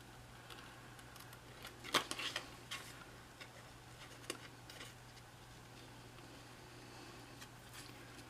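Scissors cutting cardstock for a shadow box card, a quiet run of small snips and ticks with one sharper cut near the start, close up over a low steady hum.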